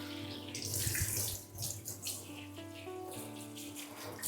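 Steady running water rinses clay from hair under a tap, a continuous splashing hiss with some gurgling and a low hum underneath.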